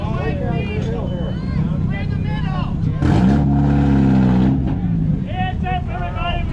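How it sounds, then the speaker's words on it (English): Race cars in the ChampCar Endurance Series 14 Hours at Road Atlanta rush past the track one after another, a loud engine surge building and fading under excited talk from nearby people. "we got cars coming through here"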